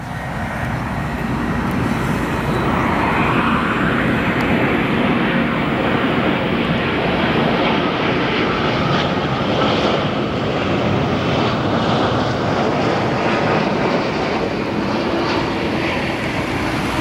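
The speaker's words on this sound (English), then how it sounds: "Rough landing there for that Dreamliner" A Boeing 787 Dreamliner touching down at Chicago O'Hare International Airport, a loud, steady, broadband jet roar sustained throughout with no pauses, heard from a fairly close vantage.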